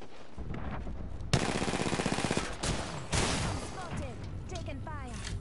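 Gunfire in a video game: a rapid, evenly spaced automatic burst lasting over a second, then further scattered shots, with a voice and game noises mixed in.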